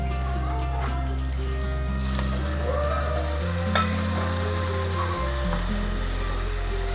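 Tomato puree fries in a pan with a steady, even sizzle that runs throughout, partly covered by loud sustained background music.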